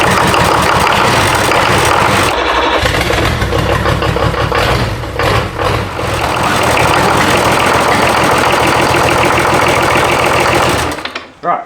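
A rebuilt BMW D190 marine engine runs loudly and roughly on its first start, a rattly, sustained mechanical drone lasting about eleven seconds before it cuts off abruptly.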